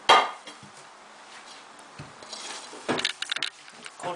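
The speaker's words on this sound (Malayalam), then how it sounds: "പാത്രത്തിലിട്ട് ഉപ്പ് ചേർത്ത് മിക്സ് ചെയ്യുക." Coconut and shallot mixture being mixed in a bowl, with light scraping and clinking of a utensil against the dish, a few sharper knocks near the start and a busier burst of clatter toward the end.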